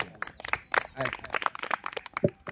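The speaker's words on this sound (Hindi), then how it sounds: "जोरदार तालियां" Scattered hand clapping from a yoga class after a foot exercise session, a brief uneven burst of claps mixed with voices talking over it.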